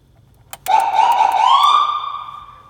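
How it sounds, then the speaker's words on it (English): After a couple of sharp clicks, a siren on a Jeep LJ sounds a single rising wail that holds, then fades, loud and close. "we'll give the siren a buzz"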